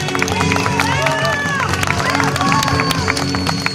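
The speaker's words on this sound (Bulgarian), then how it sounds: "Вашите аплодисменти за невероятния Давиде Евангелиста" Crowd at a stunt motor show breaks into steady applause and cheering, with a lively hubbub of voices mixed through the clapping, loud and continuous throughout.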